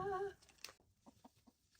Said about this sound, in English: These are some happy chickens.